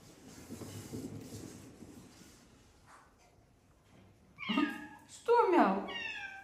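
A cat walking on a treadmill gives two short, clear meows near the end, over the low steady hum of the running belt, with a person talking softly beforehand.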